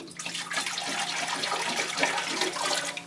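RO water at room temperature pours through orchid pots in a dense, splashy rush, close and steady throughout with irregular trickling and spattering detail, no talking.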